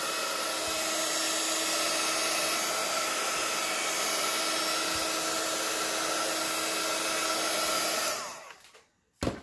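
A heat tool warms an alcohol-ink scrapbooking tag, blowing with a steady, loud, close whirring roar for about eight seconds before switching off abruptly, followed by a brief click.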